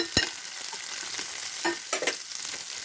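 Whole spices and lentils such as ginger, chana dal and urad dal frying in a pan, a soft continuous sizzle broken by a few sharp stirring scrapes and clicks, with no voices.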